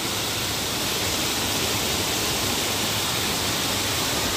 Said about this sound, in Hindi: ये देखिए, ये पानी यहाँ से पूरा प्रेशर में जा रहा है।